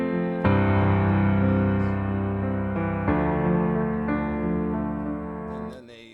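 Guitar playing a full strummed chord followed by much softer arpeggiated single notes, then a second chord with quieter notes after it, sustained and close, alone without speech.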